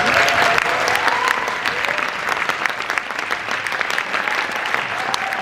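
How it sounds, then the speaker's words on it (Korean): An audience at the 30th Yoo Jae-ha Music Competition in 2019 applauds in a dense, sustained wash of clapping with crowd noise, loud and continuous throughout. "큰 박수 입니다"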